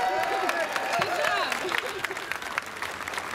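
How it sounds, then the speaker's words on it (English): A crowd at an outdoor march for men claps and cheers in a brief burst of applause, with a voice talking over it. "So have a round of applause for those guys."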